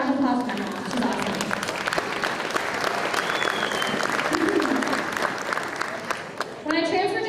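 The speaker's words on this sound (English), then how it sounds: "honestly, round of applause for my mom" Audience applause at the 2023 Fullerton College Hall of Fame induction ceremony: a steady, loud burst of clapping from the crowd, with a speaker's voice just before and as the clapping fades.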